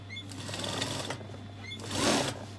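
A sewing machine understitches the lining at the neckline of an Igbo blouse, running as a steady close whirr that swells into a louder burst near the end.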